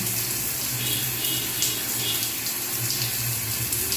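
Tap water runs steadily while someone is bathed, a continuous close splashing flow with no pauses and no talk over it.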